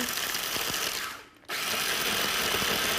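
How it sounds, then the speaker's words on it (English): A small food processor grinds pork rinds into fine crumbs, a loud, steady whirring buzz that briefly dips and cuts out before starting again at full strength. "But I'm going to use my little food processor and grind them up because it really does make them very, very fine."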